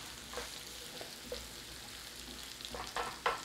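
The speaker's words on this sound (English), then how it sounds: "We are going to slow cook our onion in there." Onion slow-cooking in a pan for a German hot potato salad sizzles steadily, with a constant hiss and a few sharper crackling bursts near the end, quite faint and with no voices.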